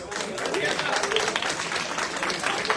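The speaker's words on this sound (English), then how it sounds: "Can you please have a round of applause?" An audience applauds, a dense burst of clapping from a crowd that carries steadily, with a voice audible alongside.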